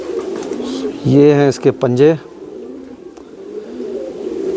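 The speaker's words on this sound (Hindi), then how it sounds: "ये भी मोरों पे आया हुआ था कबूतर" A Teddy pigeon cooing close up, one rolling coo in two bursts midway, with someone talking briefly and steady background hum.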